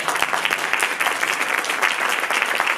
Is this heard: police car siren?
no